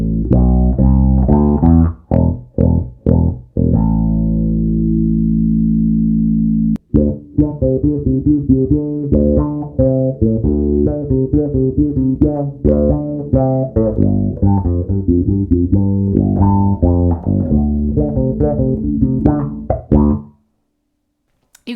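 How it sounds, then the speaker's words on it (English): Bass ukulele played through an auto wah pedal, a run of plucked notes with a sweeping, vowel-like filter on each, including a long sustained note early on, then busy rhythmic phrases until it stops. "Auto wah."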